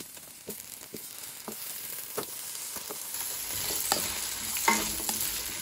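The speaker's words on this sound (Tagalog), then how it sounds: "Since mainit na ang manteka natin, umpisahan na natin iprito ang ating patatas at carrots." Potato and carrot pieces frying in hot oil, a soft sizzle that grows louder and denser partway through, punctuated by scattered stirring clicks and scrapes close up, no voices.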